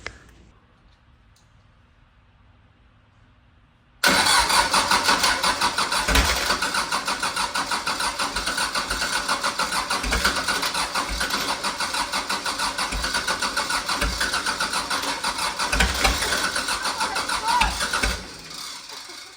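A machine's engine cranks and fires after its starter solenoid is jumped, first a quiet stretch, then a sudden loud catch into a steady rattling idle that runs close for about fourteen seconds before dropping off.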